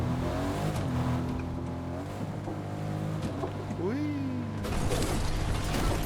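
A damaged car drives in the Fortnite video game, its engine droning steadily with rising and falling pitch sweeps, mechanical rattles and creaks, and a louder burst of noise near the end.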